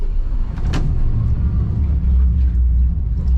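Outboard motors on a 24-foot North River boat fitted with a Simrad autopilot idle with a steady, close low rumble, broken once by a brief sharp knock early on.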